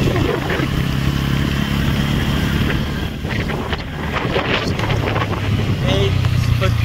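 N160 motorcycle ridden hard at full throttle on an outing to a river, its steady engine drone partly buried under heavy wind buffeting against the microphone throughout.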